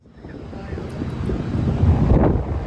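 Wind blows across the deck of a ferry to Great Cumbrae, buffeting the microphone with a low, rough roar that swells steadily louder through the clip, with a faint engine-like hum beneath it.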